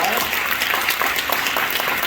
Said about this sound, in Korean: 박수로 우리 감사합니다.